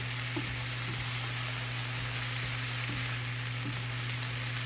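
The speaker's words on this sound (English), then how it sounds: "And stir that all to combine." Butter and sesame seeds are stirred into a sizzling soy meatball glaze, giving a steady frying hiss with a few faint scrapes, fairly quiet and without talking.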